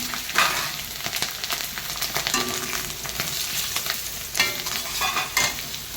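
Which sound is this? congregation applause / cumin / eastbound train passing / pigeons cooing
cumin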